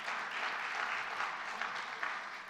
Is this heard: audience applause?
yes